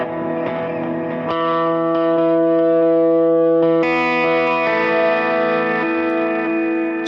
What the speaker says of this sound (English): But when I add my reverb, it's like you can't really hear the repeats so much.